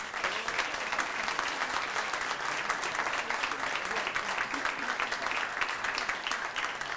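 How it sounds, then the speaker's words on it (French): Audience applause at a 40th anniversary gala evening for a hospital foundation, steady dense clapping from a crowd in a hall, even and sustained for the whole stretch. "Bonne main d'applaudissements, mesdames et messieurs, à France Bergeron, bénévole impliqué"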